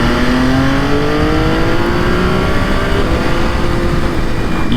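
MV Agusta F3 motorcycle accelerating hard with quick shifter gear changes, a loud steady engine drone rising in pitch through successive gears, close and continuous.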